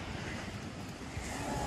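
A continuous low roar of surf rolling onto a shore, mixed with wind buffeting the microphone.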